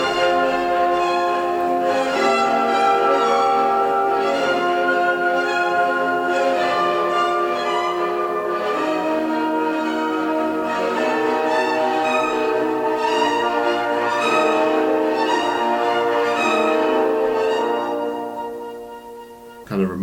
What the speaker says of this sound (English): That's the transition between the first and second subjects.